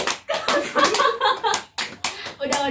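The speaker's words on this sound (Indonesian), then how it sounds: "Nanti kita tepuk tangan ya, Mbak Niken yang nyanyi." A group of people clapping hands in bursts after a song in a group counseling session, several rounds of applause separated by short pauses, fairly close, with some talk mixed in.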